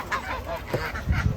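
Free-range geese honk at a rural farm that also keeps chickens and ducks, with several nasal honks overlapping at moderate distance over a soft outdoor background.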